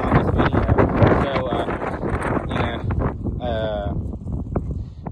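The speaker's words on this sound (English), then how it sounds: "I know the wind's probably terrible" Wind buffets a microphone outdoors at a camping spot, a steady low rumbling roar running through the whole stretch under a person talking.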